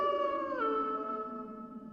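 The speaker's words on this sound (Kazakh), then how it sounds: "Тез бас аяғында қасқырлар жақындап қалған сияқты." Wolves howl close by in a Kazakh-language cartoon, a sustained tonal howl that bends downward partway through and slowly fades, heard alone over two seconds.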